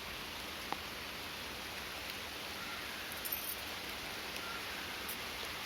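Rain falling steadily over a garden of blooming pink lilies, red hibiscus and small shrubs, a soft, even hiss that holds throughout at low level with no voices.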